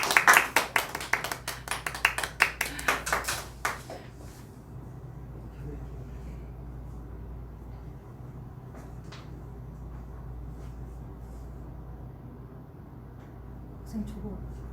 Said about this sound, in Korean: 뜨거운 박수로 환영 맞아주시기 바랍니다.